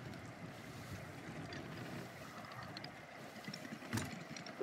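Pirate ship from Sea of Thieves cutting through the open sea, steady wash of waves and wind noise running continuously, with a brief splash or creak near the end and no talking.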